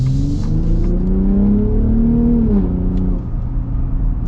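A 2025 Ford Raptor V6 in sport mode accelerating, its engine note climbing steadily through a gear and then dropping with a quick shift, heard from inside the cabin with no talk.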